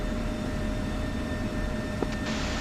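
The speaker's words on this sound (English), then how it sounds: "Yeah, I'm taxiing down runway 27 for" An Airbus A300 airliner taxis in a flight simulator, its steady engine drone with a faint constant whine continuing without pause, and a brief click partway through.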